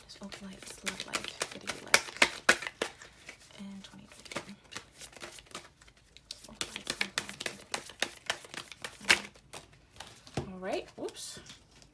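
A deck of tarot cards being shuffled close up, giving rapid bursts of riffling and flicking that come in clustered runs, with a voice talking intermittently over them.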